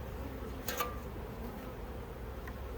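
A swarm of honeybees buzzes in front of a hive, a dense continuous hum with one brief tap partway through, steady and close with no talking.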